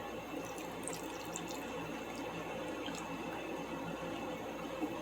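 Flour slurry being poured into oxtail cooking liquid in a pot, giving a steady, continuous watery trickle of moderate loudness that runs unbroken for the whole stretch, with no talking.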